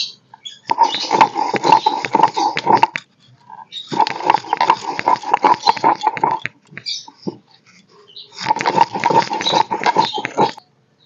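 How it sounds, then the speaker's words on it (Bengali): Roasted spices for a katla fish cutlet are ground in three loud, close bursts of a few seconds each, with whirring and rattling separated by short pauses. "ভেজে রাখা মশলাটা এবার গুঁড়িয়ে নেব"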